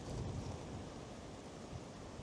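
Cold wind roars steadily across the microphone outdoors while float fishing, a low, rumbling gust that stays loud and constant throughout with no voices.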